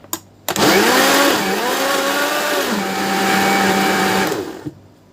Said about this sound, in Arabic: وهنبتدي ان احنا نضربهم في الخلاط